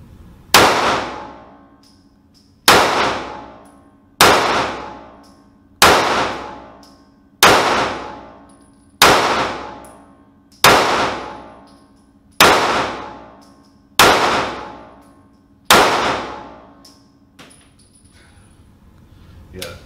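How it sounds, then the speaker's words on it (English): Ten sharp, loud pistol shots from a SCCY CPX-2 Next Gen fired at a target, spaced in a steady rhythm about one and a half seconds apart, each with a ringing decay, then a quiet tail. "So I'm going to shoot for center target and try and keep my rounds right in there."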